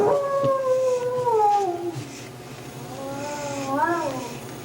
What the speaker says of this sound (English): he didn't even react at all to that howl like he usually does